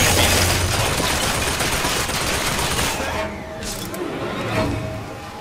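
Dense automatic gunfire in the video game Bioshock Infinite, a loud, continuous rattle of shots that thins out after a few seconds into scattered bursts and lingering noise.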